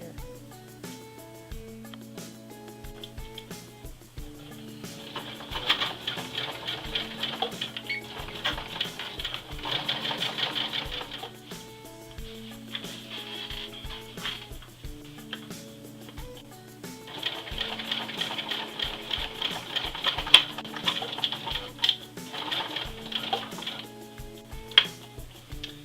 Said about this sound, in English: Stitching along.